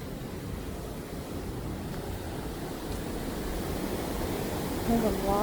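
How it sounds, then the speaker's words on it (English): Water rushing steadily through a constructed dam at Earl Rowe Provincial Park, a broad continuous roar with no clear breaks, fairly close. "And the water just pouring through there."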